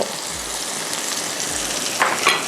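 Mushrooms stir-frying with garlic in a pan, seasoned with salt, give a steady, close hiss of frying, with a couple of sharper utensil scrapes near the end.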